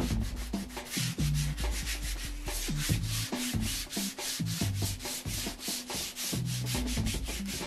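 Sanding a wooden guitar amp cabinet box: steady rhythmic rasping strokes, back and forth about three or four per second, close and continuous with a faint low hum beneath.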